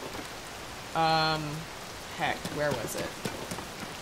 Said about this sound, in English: now we have to wait for the rain to stop